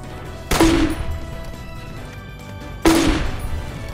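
In Fallout: The Dust, the Hydra weapon fires two loud, booming shots about two seconds apart, each with a sharp attack and a decaying rumble.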